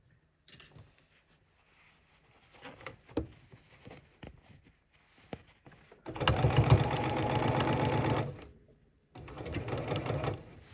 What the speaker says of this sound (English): I'm gonna stitch a few stitches, go backwards, come forward